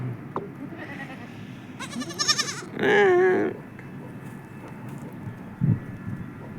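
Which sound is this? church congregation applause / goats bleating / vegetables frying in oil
goats bleating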